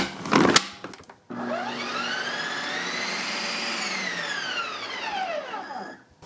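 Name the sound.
Ninja ice cream maker respinning keto ice cream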